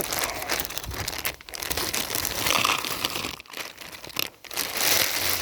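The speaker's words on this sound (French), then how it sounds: "vais mettre un peu les croquettes" Dry pet food kibble pours and rattles continuously at close range, a dense crinkly rush with brief dips, and no talking during the pour.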